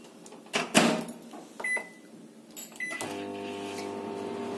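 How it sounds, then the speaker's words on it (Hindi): A microwave oven cooking a mug pizza starts with a few clicks and thumps as the door shuts and the buttons beep, then settles into a steady, close hum. "और बस अब इसको 1 मिनट के लिए मैं माइक्रोवेव कर दूंगी।"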